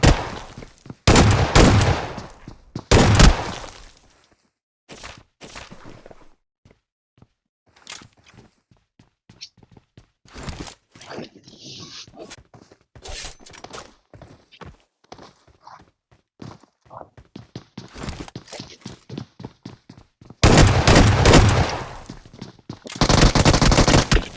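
Repeated loud shotgun bursts from a video game, clustered blasts separated by quieter stretches of clicks and footsteps.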